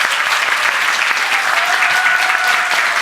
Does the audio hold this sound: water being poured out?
no